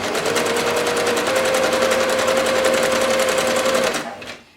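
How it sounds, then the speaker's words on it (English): A sewing machine runs a zigzag stitch across fabric scraps, a steady loud whir with a fast regular stitch pulse that keeps going for about four seconds, then winds down and stops. "Okay, so I'm just going to do some zigzag."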